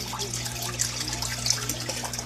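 Air-entraining Venturi valve on the return line of an aquaponics barrel, blowing air into the water: a continuous bubbling, splashing gurgle over a steady low pump hum, close and even.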